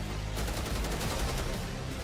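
Hip-fired gunfire in the Black Ops 6 video game, a dense rattle of shots blended into steady loud battle noise.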